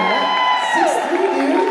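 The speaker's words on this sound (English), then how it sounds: "Round of applause for Matthew." An audience at a convention panel cheers and whoops for Matthew, a loud, sustained crowd roar with raised voices layered on top.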